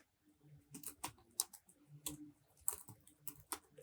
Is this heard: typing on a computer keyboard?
yes